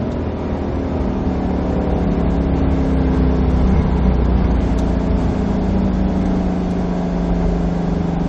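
A 2020 Ford Shelby GT500 launches off the line at a drag strip from about 2,200 RPM, its engine roaring loud and sustained as it pulls hard, heard from close by with no talk.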